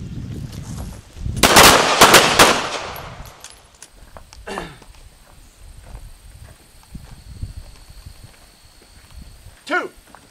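Handgun shots at an outdoor shooting range drill: a dense cluster of loud, sharp reports fires in quick succession early on, followed by scattered quieter pops and a final shot near the end.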